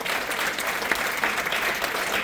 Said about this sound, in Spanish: dale un fuerte aplauso, Señor.